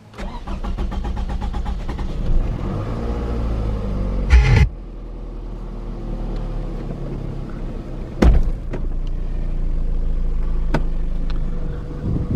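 A car engine cranks and fires up, then runs with a loud, steady rumble close by. A couple of sharp thumps break in partway through, and no one speaks.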